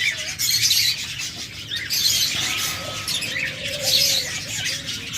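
Caged doves and cockatiels at a bird sale coo and chirp together, a dense, steady chatter of many birds with a few sharper calls standing out.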